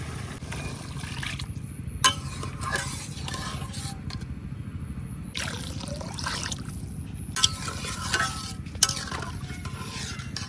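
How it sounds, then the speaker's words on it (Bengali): Spice paste and jackfruit seeds are stirred in a pan, with soft scraping and stirring sounds plus a few sharp clinks of a spoon against the pan over a low background, quiet and close, a faint voice now and then. "কাঁঠালের বীজের সাথে মশলাটা কিন্তু খুব সুন্দর করে কষানো হয়ে গেছে।"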